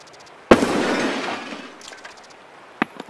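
A sharp, loud gunshot in Escape From Tarkov bursts out and leaves a long rolling echo, followed a few seconds later by a second, shorter crack.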